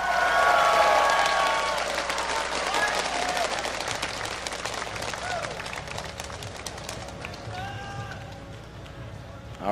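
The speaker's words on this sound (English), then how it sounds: "let me hear you guys cheer for these two teams" A live crowd at an esports quarterfinal between Azubu and TSM cheers and claps loudly, the applause peaking at the start and then thinning into scattered clapping and shouts, with a voice breaking in at the very end.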